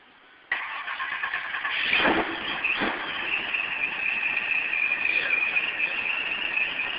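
A supercharged 1000hp Chevy 350 V8 in a BMW 3 Series fires up abruptly from quiet, then settles into a loud, rough, lumpy idle with a couple of sharp blips early on, and no speech.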